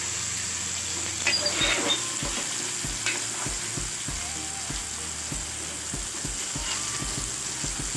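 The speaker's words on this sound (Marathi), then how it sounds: "भरपूर भाजले बघा असं भाजून घ्यायचं आणि एकदम असं हळू पलटी करायचं नाही तर ते तुटतात" Bombil (Bombay duck fish) sizzle steadily as they fry in a pan: a close, constant hiss, with a low rhythmic thumping pulse underneath and a few soft clinks.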